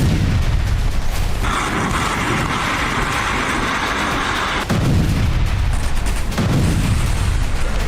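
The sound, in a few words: Russian T-80 tank firing destructive attacks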